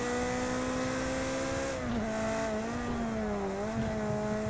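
A Ferrari race car in the racing game Project Cars 2 revs hard, its engine note rising and dipping with gear changes and a steady whine, loud and close with no talk.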